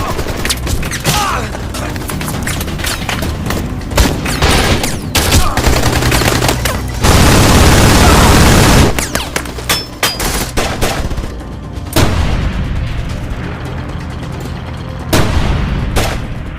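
Dense, loud gunfire from AK-47 rifles in a film battle scene: rapid overlapping bursts and single shots crackle almost continuously, with a sustained roaring blast partway through and no talking.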